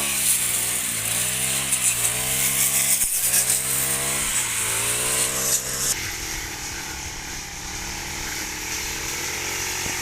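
A grass cutter mows grass in an orange orchard, its small engine revving up and down in wavering surges before settling into a steady, slightly lower drone. It is loud and close, with no talking.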